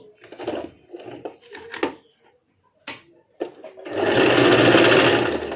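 A sewing machine stitches a kurti made from leftover cloth, starting as a loud, close, rapid mechanical whir that runs steadily for a couple of seconds. It follows someone speaking, and short bursts of handling noise come before it.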